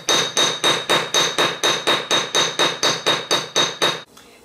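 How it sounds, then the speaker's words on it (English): Rapid, evenly spaced metallic strikes of a rain texturing hammer on a sterling silver ring band, about fourteen bright clinks in steady rhythm, close and loud, then they stop. "today I'm going to hammer texture it with the rain hammer"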